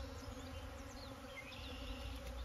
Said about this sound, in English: Hopefully the camera picks up the sound of the bees.